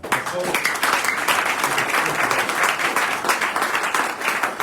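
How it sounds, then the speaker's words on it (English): Applause from a crowd at a governor's reception for a visiting community delegation in Lokoja, a continuous, fairly loud round of clapping with a few voices mixed in underneath. "a sound round of applause for our"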